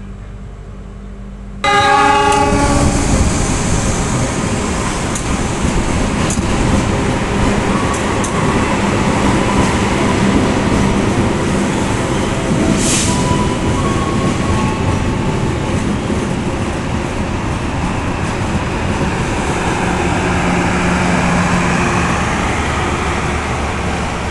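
Mutiara Selatan passenger train travelling from Bandung to Surabaya at night: after a bell-like tone it starts up into a loud, continuous roar of wheels and carriage rattle, heard from on board.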